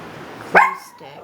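A small dog gives one sharp, loud bark close by, then a softer whimpering yip follows in a quiet room.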